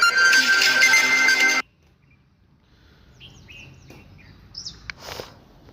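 A phone ringtone played from a ringtone website rings loud and steady for about a second and a half, then cuts off abruptly, leaving faint scattered chirpy tones afterwards.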